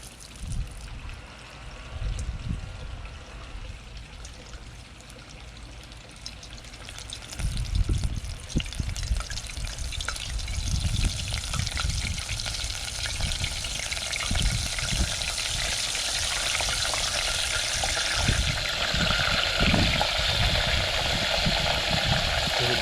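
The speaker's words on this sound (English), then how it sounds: "We're gonna dip them in the milk, dredge them again, and then drop them in the oil." Squid pieces dipped in milk and dredged in flour sizzle in hot oil, a continuous crackling fry that swells louder after the first few seconds and stays busy throughout.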